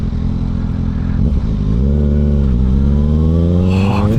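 Kawasaki Ninja ZX6R 636 engine blipping through downshifts on the road, a loud, close, raspy drone whose pitch drops and jumps with each throttle blip, continuous for several seconds without speech.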